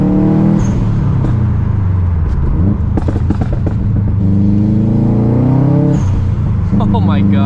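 A Subaru WRX STI with a single-exit catback exhaust drones and revs loudly from inside the car, the engine note rising and falling steadily throughout as people talk over it.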